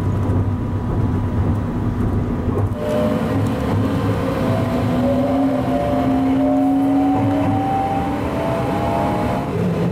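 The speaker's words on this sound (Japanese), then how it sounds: "伯備線に入ってサンライズ出雲は高橋川に沿って走ります。" The Sunrise Izumo sleeper express electric train runs on the Hakubi Line along a river, heard from inside as a continuous heavy rumble with a rising motor whine that climbs steadily as it labors along.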